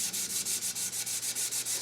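Sandpaper rubs back and forth over a lacquer coat on a big maple wood vase, a close, rhythmic rasping of about a dozen quick strokes in under two seconds, with no speech.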